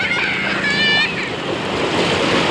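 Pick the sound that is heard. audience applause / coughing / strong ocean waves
strong ocean waves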